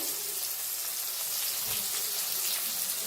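Chopped onion, crushed garlic and cumin sizzle in hot oil in a pan for a village-style cluster bean dish, a steady crackling hiss heard close and fairly quiet with no talk.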